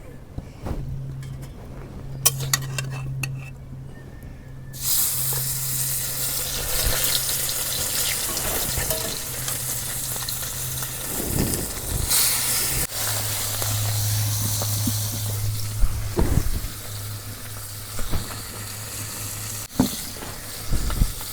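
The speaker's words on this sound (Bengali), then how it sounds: "মাছগুনা এখন আমি ভাইজা নেই," Small fish frying in hot mustard oil in a village-style Bangladeshi kitchen, a steady close sizzle running throughout with occasional clinks and stirring scrapes, with no talking over it.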